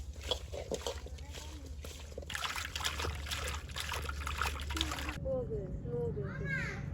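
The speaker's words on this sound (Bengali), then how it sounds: "লবণ দিয়ে ভালোভাবে ধুয়ে নিচ্ছি মাছগুলো।" Fish being washed with salt in water: splashing and trickling water with sloshing and rubbing, under talk and background voices, followed by a quieter stretch with a faint high chirp.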